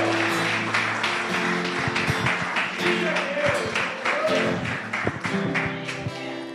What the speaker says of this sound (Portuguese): Pode aplaudir ao Senhor, porque Ele não te esquece.